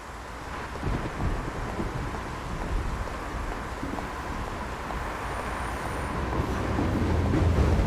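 Subway train rumbling in the noir adventure game Face Noir: a low, continuous roar that swells slightly toward the end, steady throughout with no talk.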